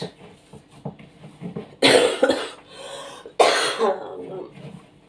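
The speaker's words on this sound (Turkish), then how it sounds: "bu öksürükten kurtulamıyorum ya Rabbim" A person with a lingering cough gives two harsh, loud coughing bursts up close, separated by a short pause, with quieter breathing and throat sounds before them.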